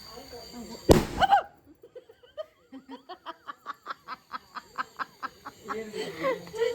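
A single sharp firecracker blast rings out during Diwali, followed by rapid laughter-like bursts and voices chattering afterward.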